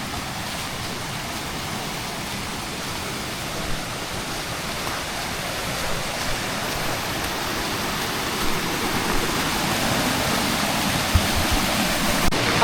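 The Heliyen Ella waterfall in Sri Lanka roars in a steady, dense wash of falling water, unbroken and even throughout with no voices.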